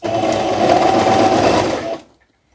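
A sewing machine runs a narrow half-centimetre blouse hem, a loud, steady close-up whir lasting about two seconds before stopping abruptly into silence.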